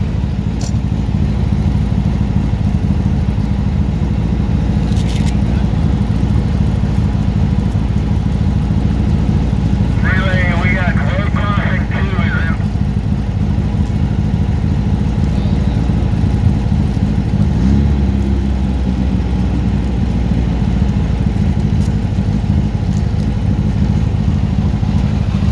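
An off-road motorcycle's engine drones loud and steady near a river race pit lane, holding a continuous rumble for the whole stretch as the bike rides away, with brief faint chatter in the background.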